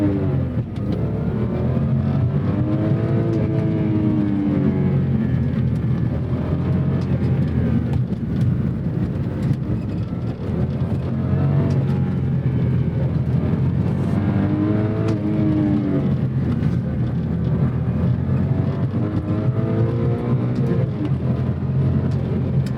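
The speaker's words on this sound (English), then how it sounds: "The engine doesn't quite sound it's not as smooth as you would expect a BMW inline six to be." A 2003 BMW M3 E46 inline six engine running, heard steadily and loudly from inside the car, with a continuous rough drone whose pitch rises and falls gently through the revs, no talk.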